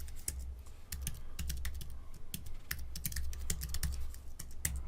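Rapid keystrokes clatter on a computer keyboard, a close, irregular run of sharp clicks with brief pauses between bursts and no talking.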